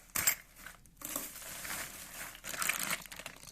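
Crinkly plastic bag from a shipping box of plumbing supplies is torn open up close, with a sharp rip followed by sustained crackling and rustling in bursts, no talking.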